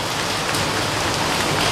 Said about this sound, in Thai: ฝนตกจริงๆนะครับ